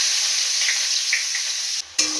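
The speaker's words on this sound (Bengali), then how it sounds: "পেঁয়াজ, টমেটো আর রসুন আমি ভেজে নিলাম।" Onion, tomato and garlic fry in a pan with a steady, close sizzle and hiss, broken by a brief dip near the end before the crackle resumes.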